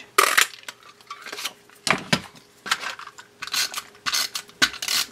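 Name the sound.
punching a paper circle with a circle punch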